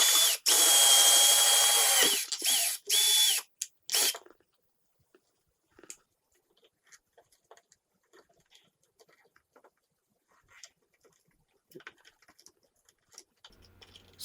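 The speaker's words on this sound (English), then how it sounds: "I'm going to make a hole in the box so the wires can extend outside." A power drill bores a hole through an electrical wall box while a smart light switch is being installed, with loud whirring bursts in the first few seconds, then near silence with faint, sparse bird coos.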